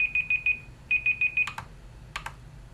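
A kitchen timer beeps in two quick runs of rapid electronic chirps, followed by a few sharp clicks, close and moderately loud.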